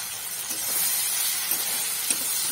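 Spices frying in a pan with chopped onion and tomato for a village-style fish curry with papaya, a steady close bright sizzle and hiss with faint stirring scrapes.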